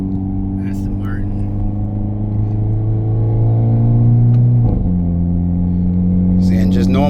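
Hyundai Elantra N four-cylinder engine heard from inside the cabin, a loud steady drone with strong low harmonics that rises in pitch, dips briefly with a shift or lift, then settles again; brief talk at the end.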